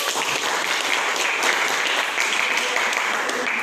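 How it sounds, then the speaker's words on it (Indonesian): Applause in a classroom for a student named Lili: a steady burst of many hands clapping together, fairly loud and continuous throughout. "aplaus buat Lili"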